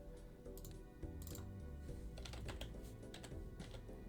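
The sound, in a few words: loud computer keyboard typing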